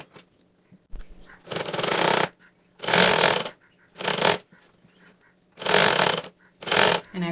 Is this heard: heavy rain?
no